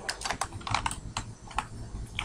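Rapid, close clicking of a computer keyboard as a command is typed into a terminal, with irregular keystrokes and no talking.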